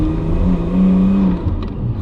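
Nissan R34 Skyline engine droning steadily from inside the cabin during a drive, a loud continuous low rumble with no speech.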